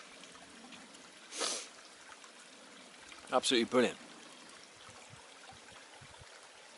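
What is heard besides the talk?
woodland stream flowing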